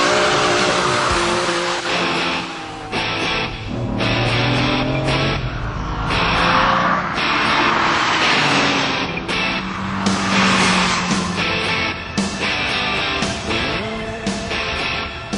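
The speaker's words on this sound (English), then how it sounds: "demonstrate just how fast the Diablo accelerates" A Lamborghini Diablo V12 accelerating hard on the Castle Combe racetrack in Wiltshire, loud and close, with engine roar climbing through gear changes and bursts of tire squeal across the run.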